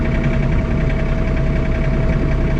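A John Deere 3 Series tractor engine idles steadily at night while snowblowing a driveway, a continuous low mechanical drone with a faint whine and no voices.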